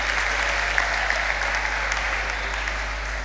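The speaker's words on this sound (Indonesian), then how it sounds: "Tepuk tangan untuk seluruh santri Pondok Modern Tazaka." Students at an Islamic boarding school are applauded by an assembled audience, with continuous, even clapping at a steady level, heard fairly close alongside a low constant hum.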